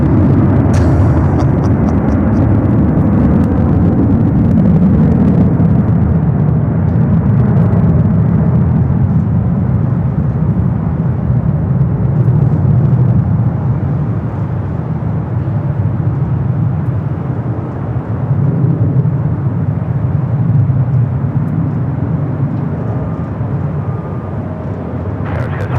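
An airliner rolling down runway 24 left at Los Angeles International Airport, a loud, steady, broad jet roar that holds throughout and eases slightly toward the end, with no talk.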